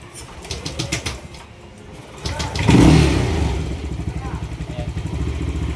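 A Yamaha Aerox V1 scooter engine, unused for a year and with a weak battery, cranks and catches, rising into a loud rumbling idle that keeps running steadily, with voices talking over it.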